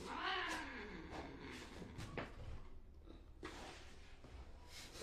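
A rescued stray cat meows and cries repeatedly during handling, its calls loud and close, with scuffling and handling noise between them and no talk.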